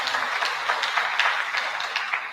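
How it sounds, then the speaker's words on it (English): An audience at a year-end education awards ceremony claps steadily in a sustained, even round of applause, with no voices over it. "What about giving a big round of applause for them?"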